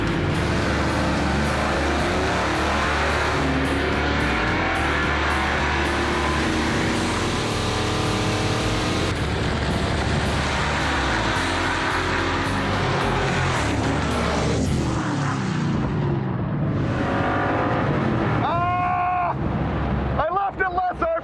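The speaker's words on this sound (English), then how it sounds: "The double burnout." A car does a double burnout, spinning one tire and then the other, with a loud, sustained roar of engine and tire noise that fades out near the end.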